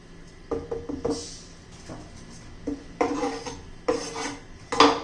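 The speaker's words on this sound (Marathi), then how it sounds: "आपण यांना शिमला मिरची वांग्यासाठी चिरून घेणार आहोत आणि त्याच्या आतल्या बिया काढून घ्यायच्या." A knife taps and clicks against a board while bell peppers are cut into quarters and their seeds scraped out, giving scattered light chops and a few sharper knocks up close, with no talk.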